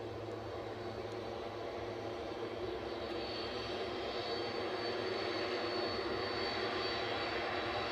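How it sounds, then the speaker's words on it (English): Steady, continuous engine roar from an EasyJet jet airliner at Edinburgh airport, heard at moderate distance as a broad even rumble with a whining upper tone, no voices present. "EasyJet's all lined up, ready to go as soon as this baby turns off."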